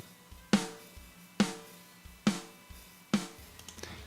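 Four sharp snare drum hits spaced evenly about a second apart, each with a bright crack, while faint bleed from other instruments rings quietly underneath.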